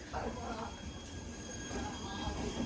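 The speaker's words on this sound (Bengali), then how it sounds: "আর ট্রেন এখন আমাদের ছেড়ে বেরোচ্ছে মালদা টাউনের পথে" A passenger train pulls out of platform 1 at Bolpur Shantiniketan station, bound for Malda Town, in a steady close rumble of wheels and carriages with a faint high metallic squeal throughout.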